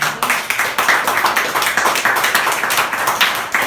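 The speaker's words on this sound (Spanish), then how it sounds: "Denle otro aplauso." Church congregation applauding during a Spanish-language sermon, a dense, steady crowd clapping that stays loud and continuous throughout, with no talk over it.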